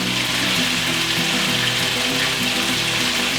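Steady, dense crackling sizzle of olive oil frying in a pan, continuous and fairly close, with no voices.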